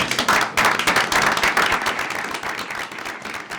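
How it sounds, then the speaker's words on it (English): A room at a Gaithersburg mayor and council meeting breaks into steady applause for new staff members, dense overlapping claps from many hands that hold loud for a few seconds, then thin slightly. "Let's give them a round of applause"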